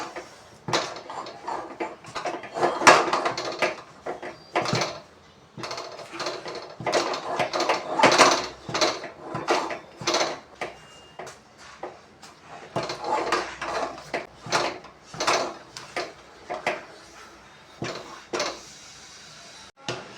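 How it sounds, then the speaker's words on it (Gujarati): Papad khichu dough, a steamed rice-flour mixture, stirred continuously in a pot on the stove: a steady run of scraping, knocking utensil strokes against the metal, moderately loud and close, with no talking. "આ રીતે સતત મિક્સ કરતા રહેશું જેથી નીચે છે ચોંટે નહીં"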